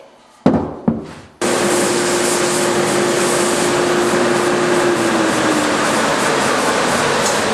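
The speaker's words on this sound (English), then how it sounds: "I'm just pushing the edge of the drawer up against the sander" A few sharp knocks, then an edge sander starts up and runs loudly and steadily against a wooden drawer edge, with a constant whirring hum and broadband grinding hiss.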